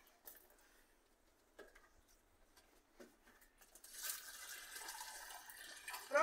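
Water runs into a chicken coop drinker, first as faint intermittent trickles and splashes, then as a steadier, louder flow in the last couple of seconds.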